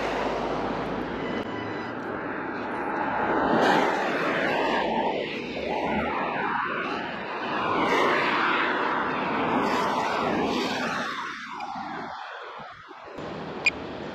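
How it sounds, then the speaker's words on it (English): A drone flies back over a flooded river during a storm in Tewkesbury, a steady whirring hum in wind that rises and falls in loudness without talk. "Let's get the drone back, shall we?"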